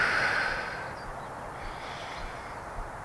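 A single deep breath drawn in during a yoga breathing exercise, close and airy, with a soft rushing inhale that fades gently over a few seconds, no talking.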